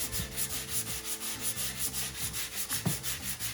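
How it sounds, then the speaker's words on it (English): A wooden speaker box is sanded by hand in quick, rhythmic back-and-forth strokes, a close, soft scratchy rasp repeating about three times a second, with a brief knock near the end. "we got our boxes all sanded up"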